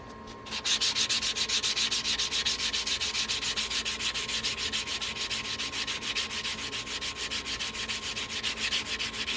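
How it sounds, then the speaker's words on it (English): Sanding the cut edge of a coin ring, a steady rhythmic rasping rub repeating rapidly and evenly, close and loud, continuing for several seconds after a brief start. "I'm going to go ahead and sand this cut edge."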